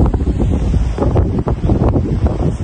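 Strong wind blowing outdoors on a cool morning, loud rumbling gusts buffeting the microphone continuously with no voices.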